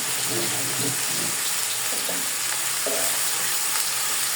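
Steady oil sizzling and crackling fills the scene as food fries in a pan, with occasional stirring scrapes nearby.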